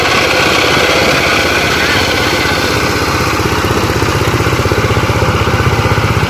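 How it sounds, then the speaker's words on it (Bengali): A tractor engine runs steadily and loudly throughout, a continuous close drone with rhythmic low pulsing, in a rice paddy field where a new machine is being learned for levelling. "এই যে দেখো একটু মেশিনে আওয়াজ হবে বন্ধুরা টেরাকট নতুন মেশিন চালানো শিখছে"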